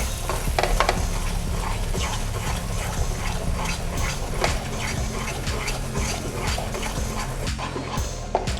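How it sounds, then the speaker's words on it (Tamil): Thick mango poornam filling stirred in a pan over a slow flame, repeated scraping and soft bubbling sizzle in an irregular rhythm, close by with no talk. "கொஞ்சம் ஸ்லோ ஃப்ளேமில் வச்சு நல்லா கிண்டணும்."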